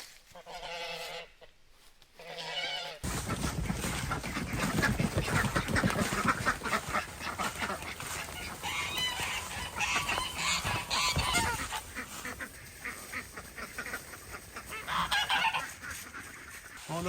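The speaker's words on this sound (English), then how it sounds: "let's get the ducks out so they can join their goose friends." Embden geese honk loudly and ducks quack on a farm, a dense, continuous chorus of overlapping calls close by, with a brief quieter stretch at the start before the flock erupts.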